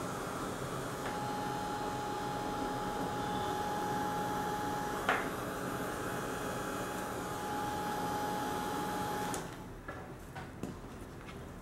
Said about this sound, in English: I'm going to again go over with my heating tool.